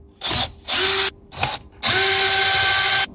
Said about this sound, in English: So get out your drill here.